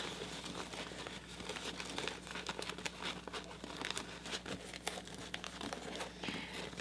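Paper is handled and folded during quiet crafting, with soft crinkles, rustles and light taps scattered irregularly, close and faint, with no talking.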